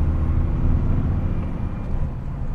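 Steady low engine drone and road rumble fill the cab of a Volvo road train truck as it drives, constant and fairly loud, with no voices.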